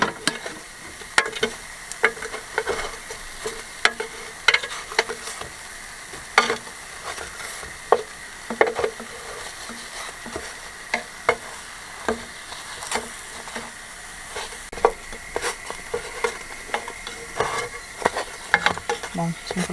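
Small focaccine cook in a covered pan on a van trip, giving a soft, steady sizzle with scattered crackles and pops, fairly quiet and close, with no talk.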